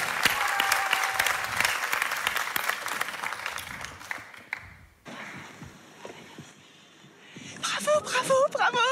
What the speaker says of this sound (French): Je vous demande d'applaudir Loubna, s'il vous plaît